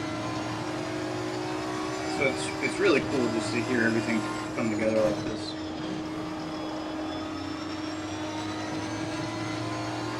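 A race car in Assetto Corsa Competizione at Zolder drones steadily, its engine note rising and falling with transmission whine, while someone talks over it for a few seconds.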